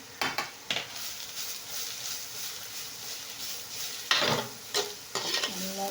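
Grated carrot sautéing in a pan, a soft steady sizzle broken by several scraping stirs of a spatula against the pan, close and fairly quiet with no talking.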